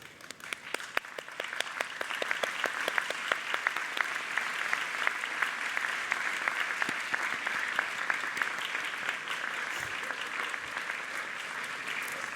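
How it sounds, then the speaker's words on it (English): A graduation ceremony audience of graduates, families and friends gives a warm round of applause, sustained steady clapping from many hands for over twelve seconds, fairly even in loudness with no talking over it. "give them the most warmest round of applause"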